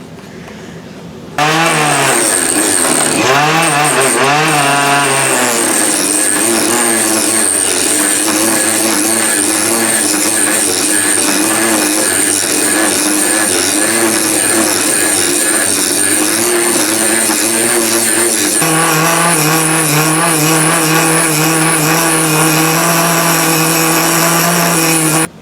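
A Dremel-powered lathe turns a homemade blowdart, a loud continuous high-pitched motor whine that starts suddenly and runs steadily throughout with slight pitch shifts under load.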